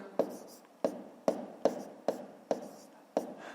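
A pen writes numbers by hand on paper during a fifth-grade maths exercise: seven short, crisp scratching strokes at a fairly even pace, close and quiet, with no talking.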